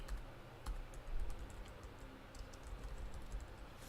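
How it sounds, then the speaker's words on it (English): Quiet keyboard typing, a run of light, irregular key clicks with a few sharper taps, close by and unaccompanied by speech. "Sorry for the bad typing."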